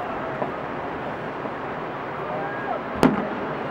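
A single firework bursts far off over Rockaway Beach on the 4th of July, a brief faint thud near the end above a steady hiss of wind and surf.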